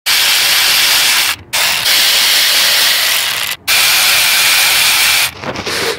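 Ratchet loosening 8 mm lower intake manifold bolts on a Ford F-series engine during a timing chain and head gasket job, a steady close scraping whir broken by two short pauses and a final stop.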